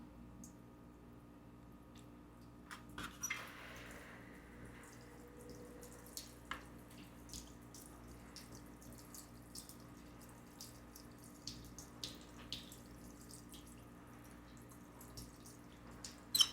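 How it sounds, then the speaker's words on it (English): Water runs and spatters off a Hellcat's painted body panel during a rinse, a steady soft wash with scattered drips and small splashes throughout, no voices. "See how it takes a while for the water to sheet off."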